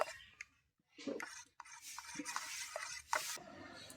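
Chili flakes and ground black pepper being mixed into dry semolina by hand or spoon, a close, soft scraping and rubbing with short pauses between strokes.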